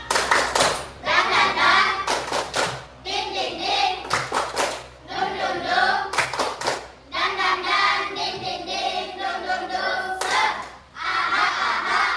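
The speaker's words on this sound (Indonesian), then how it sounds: "Kita tepuk semangat dulu. Tepuk semangat." Students in a classroom perform a rhythmic group clapping chant, bursts of synchronized claps alternating with shouted chanting voices, loud and close, pausing briefly between phrases.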